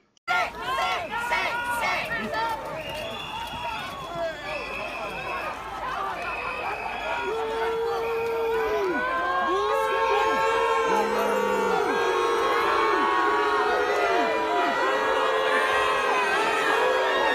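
Large, dense crowd at a police standoff in Glasgow, steady loud din of many voices with shouting, whooping and whistles rising and sustained throughout.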